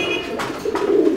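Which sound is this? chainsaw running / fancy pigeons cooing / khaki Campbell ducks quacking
fancy pigeons cooing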